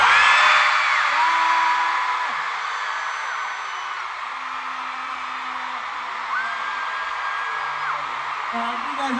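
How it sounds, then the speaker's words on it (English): A world tour concert crowd in Melbourne screams in a loud, sustained roar that swells at the start and then holds steady. A voice over the sound system can be faintly heard amid the noise. "You guys are screaming."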